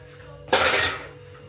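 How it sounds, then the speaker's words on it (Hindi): Metal pots and utensils being washed in a home kitchen give one sudden close clatter that rings briefly and fades over a low background hum. "तीसरी बार धो रही हूँ फिर से बर्तन।"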